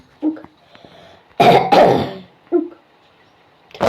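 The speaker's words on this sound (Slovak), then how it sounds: "Kašle." Several short coughs and throat-clearing bursts, close and fairly loud, with a tight double cough in the middle and quieter single coughs before and after.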